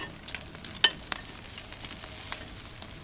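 Caveman steak cooked directly on the coals of a Big Green Egg, flipped over and sizzling: a soft, steady crackle with a sharp scrape or tap early and a few small pops, close and fairly quiet.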